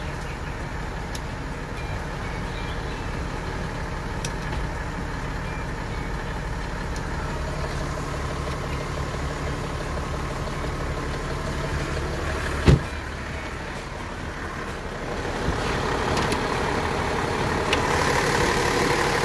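A 1998 Toyota Land Cruiser VXR HDJ80R 4x4 engine idles with a steady low rumble throughout, one sharp click partway, and a slight rise in noise near the end.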